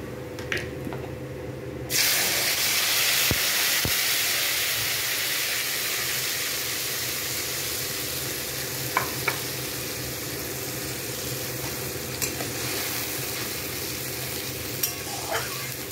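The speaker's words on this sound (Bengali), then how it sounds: "তারপরে আমি ব্লেন্ড করা মশলাটা আস্তে আস্তে ছেড়ে দেব" A blended spice paste hits hot oil over a low flame and bursts into a loud, steady sizzle, close and continuous, with occasional stirring clicks and no talking.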